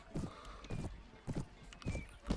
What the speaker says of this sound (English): At least we've got a decently okay horse.